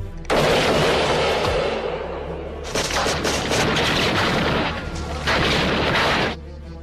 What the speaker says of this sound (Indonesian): langsung melepaskan tembakan